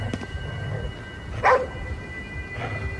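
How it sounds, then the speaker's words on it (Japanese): Dog barking in the video game Ghostwire Tokyo, a few separate barks and yips spaced across a quiet ambient background, moderately near. "何に向かって吠えてるんだ？"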